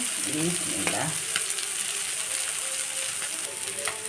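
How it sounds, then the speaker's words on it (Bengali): Small moya fish coated with salt and turmeric fry in oil with a loud, close, continuous sizzle and crackle. A brief voice is heard near the start. "মাছটাকে লবণ হলুদ দিয়ে ভেজে নিলাম আর একটু তেল দিয়ে দেবো"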